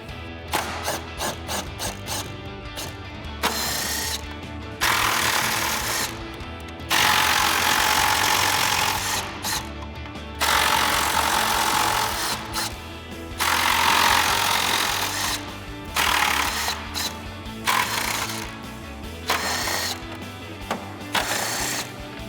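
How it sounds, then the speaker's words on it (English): Screws being backed out of the grille trim on a RAM 2500 with a 10mm socket on a power driver, close up, in repeated whirring bursts of a few seconds each, separated by short pauses. "So we've got our 10mm socket, and we're gonna get all of those out"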